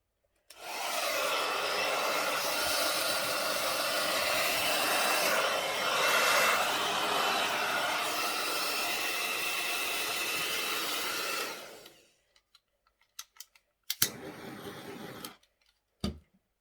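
Blower or hair dryer pushing air over acrylic paint in a Dutch pour, a loud steady whooshing roar for about eleven seconds that cuts off, followed by faint clicks and a short burst of noise.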